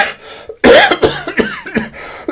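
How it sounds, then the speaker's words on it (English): A series of harsh, close coughs in quick succession, several hacking bursts with short gaps between them. "How long have you had that cough?"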